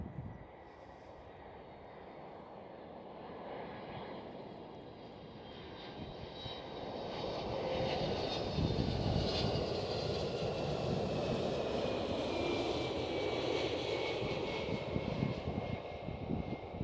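A United Airlines Boeing 767 jet passes at Amsterdam Schiphol, a broad roaring engine rush that swells gradually and holds loud toward the end, heard from a distance with no talking.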